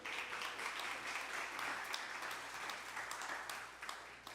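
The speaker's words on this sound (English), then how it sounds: "We'll give a round of applause for our child leaders." A church congregation applauds its child leaders during a service, a steady, fairly quiet wash of clapping that lasts the whole stretch without letting up.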